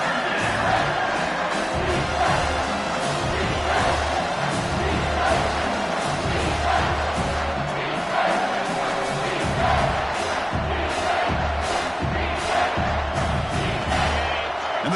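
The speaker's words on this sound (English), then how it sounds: "And the crowd coming to life here, trying to help this defense down in the red zone." Large college football stadium crowd roaring to back the defense in the red zone, a dense sustained wash of cheering and yelling that stays loud and even for the whole stretch, with scattered whoops and claps inside it.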